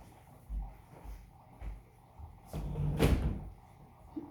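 A door being closed at home, a few soft bumps and shuffles followed by a louder thud of the door shutting, close by and without speech.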